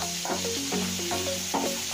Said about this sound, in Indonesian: Sudah halus semua, bumbu ini lalu goreng, kita gunakan api sedang saja.